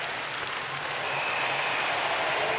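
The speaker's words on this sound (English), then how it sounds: "Listen to this crowd when this clock winds down." Ice hockey arena crowd at a women's world championship gold medal game between USA and Finland, a dense, loud roar of cheering and applause sustained throughout without a break.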